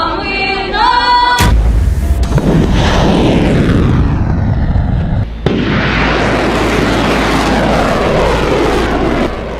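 A loud, dense roar of aircraft and explosive blasts during a missile attack over Ukraine, an abrupt burst followed by sustained rumbling that cuts off sharply and swells again, with no talking.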